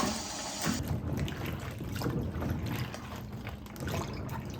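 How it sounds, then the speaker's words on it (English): Freshly picked garden produce, likely peppers, being washed in water, with continuous close splashing, sloshing and trickling, moderately loud and steady, with no talk. "But oh well, wash them real good."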